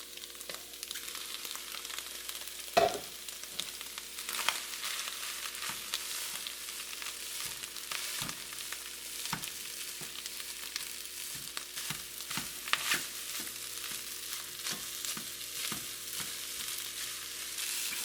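Cooked rice fries with andouille sausage in a pan, a steady sizzle carrying on throughout with scattered scraping and stirring clicks, close and moderately quiet, no voices.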